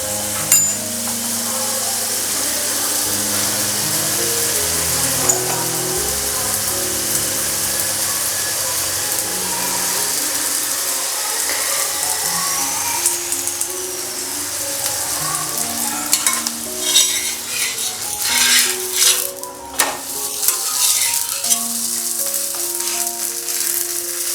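Cauliflower paratha frying in oil on a pan gives a continuous, fairly loud sizzle, with occasional scraping and handling noises rising toward the end and no talk.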